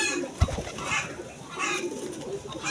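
Domestic pigeons coo softly nearby in a few low, rounded calls, with a brief thump near the start and faint ambient noise between the calls.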